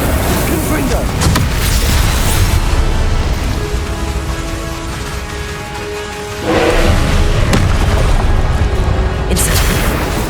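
Confringo explosion spells blast in the PS5 game Hogwarts Legacy: a heavy, continuous rumbling roar with a dip in the middle, then a fresh surge and another burst near the end.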